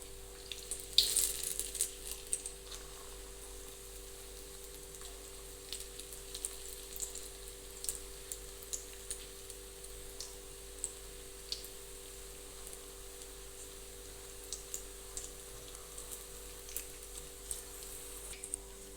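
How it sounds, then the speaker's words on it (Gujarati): Methi gota fritters fry in hot oil for bhajiya, a faint steady bubbling with scattered small pops and clicks, a louder spatter early on, over a low background hum and no talking. "અહીંયા આખું તેલ તપી ગયું છે તો હવે આપણે સૌ પ્રથમ તો મેથીના ગોટા કરીશું"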